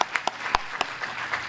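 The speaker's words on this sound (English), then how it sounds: "We're going to hopefully give one big round of applause again for Dr. Connett." An audience at a forum applauding, a sparse scatter of claps with a few sharper hand slaps, fairly quiet and brief.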